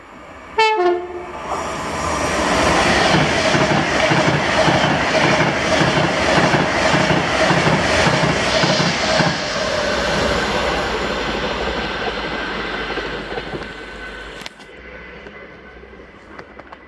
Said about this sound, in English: the 11:05 Virgin Trains service to London Euston from Edinburgh